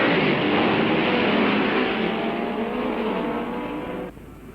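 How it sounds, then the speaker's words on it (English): 1965 racing cars accelerating away together at the start of the Guards International Trophy race: a loud, dense engine roar that gradually fades as the pack pulls away, then drops off abruptly at the end. "And away, with Surtees surging into the lead and Gurney's clutch smoking"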